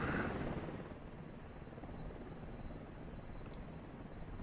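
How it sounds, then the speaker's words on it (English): A helicopter in a video game flies overhead, its dense rotor wash and engine roar loud at first, then settling into a steady, slightly fading drone. "We got a chopper."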